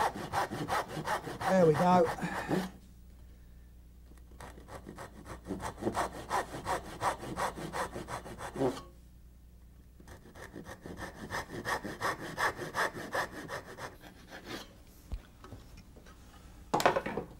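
A hand saw cuts dovetails in wood with steady rasping back-and-forth strokes, close and clear, broken by a pause and then resumed; someone speaks briefly near the end.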